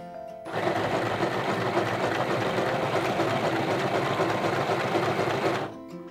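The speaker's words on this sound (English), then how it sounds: "So I'm gonna set my dial to straight stitch, which is number one, and then the machine will go along." A Hobbycraft Midi sewing machine runs a straight stitch in one steady, even whir lasting about five seconds, starting and stopping abruptly, close up with no talk.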